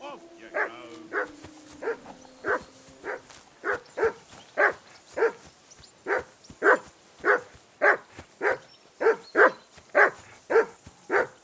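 A dog in the video game Kingdom Come Deliverance 2 barks about eighteen times in a steady, evenly spaced rhythm, close and loud, after a brief voice at the start.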